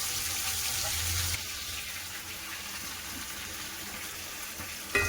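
A quiet, steady sizzle of rohu fish frying in hot oil, a continuous crackling hiss with no talking.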